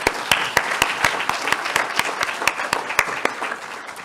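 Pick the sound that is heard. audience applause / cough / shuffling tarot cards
audience applause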